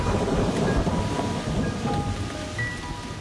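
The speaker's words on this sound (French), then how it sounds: "Un violent orage éclate." Violent thunderstorm with heavy rain, loud continuous downpour and deep rumbling thunder filling the whole stretch, with no voices.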